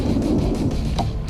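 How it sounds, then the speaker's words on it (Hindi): Steady heavy rain pours close by with a deep rumble of thunder rolling through it, a dense continuous wash of sound with no voices. "बारिश हो रही है।"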